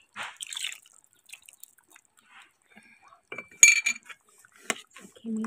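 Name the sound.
stirring rice flour in a cooking pot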